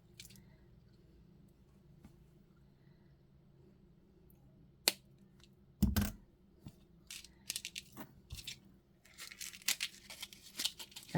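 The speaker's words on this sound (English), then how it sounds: "So we'll snip off about 4 inches right here." Small wire cutters snipping jewelry chain, giving a sharp close snap followed by scattered light clicks and rattles of the loose chain being handled, with no voices.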